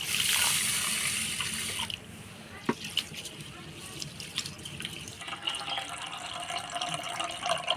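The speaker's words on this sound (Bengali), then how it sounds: "চালটা পরিষ্কার করে ধুয়ে নিলাম" Tap water runs and splashes as Gobindobhog rice is rinsed in a kitchen, a strong steady stream at first, then quieter trickles, drips and soft clinks of grains and vessel.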